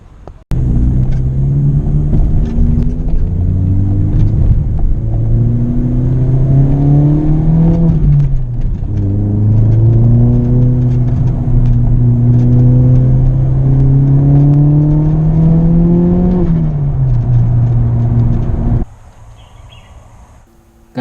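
A car pulls out of a parking lot, its engine loud and close as it accelerates through several gear changes, each rising whine dropping back before climbing again, then cutting off abruptly near the end.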